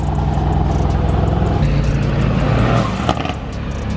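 Tuned BMW E30 engine with a blow-off valve, heard as a loud, close, revving engine roar with a sharp hiss near the end, under a noisy outdoor background.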